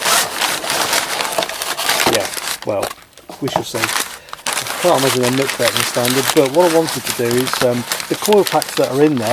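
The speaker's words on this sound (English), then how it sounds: "Let me unwrap that first, then start talking." Crinkly plastic packaging is torn and rustled while new NGK coil packs, R8-type units for an Audi S3 8P, are unwrapped. Someone talks over much of the close, crackling rustle.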